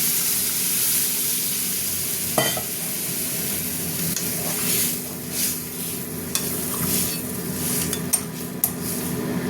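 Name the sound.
mustard paste and water added to fish curry in a pan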